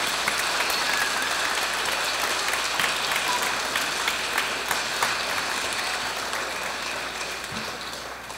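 Congregation applauding inside the Église Saint-Étienne in Vallouise, a sustained wash of many hands clapping that stays even and then eases slightly near the end.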